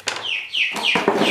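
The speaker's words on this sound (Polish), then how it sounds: "jakiś kurczak tu wlazł" A small chicken makes a few sharp, high-pitched cheeping clucks in quick succession, close and fairly loud.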